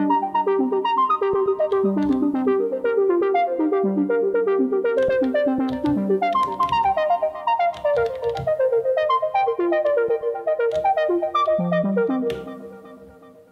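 Fast arpeggiated notes from an Elektron Digitone synthesizer cycle through shifting octaves, rising and falling in steady runs, loud throughout before fading at the end.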